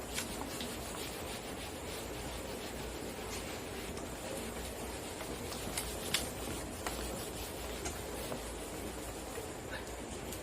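A board eraser rubs chalk or marker off a classroom board during a physics lesson, a steady dry scrubbing and swishing that runs continuously for about ten seconds with no speech over it.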